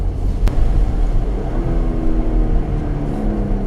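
A 2020 Porsche Macan S engine revs and accelerates up close, a loud low roar with rising tone.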